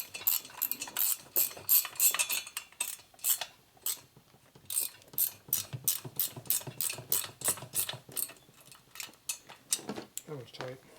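A ratchet wrench tightens head bolts on a Harley top end with S&S parts, a quick run of sharp metallic clicks in uneven bursts, close and fairly loud, with brief gaps and some low talk.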